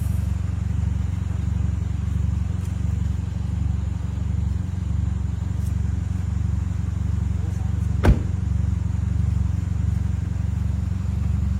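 A car engine fitted with a muffler idles in a steady, loud low rumble that barely changes, with one sharp click partway through.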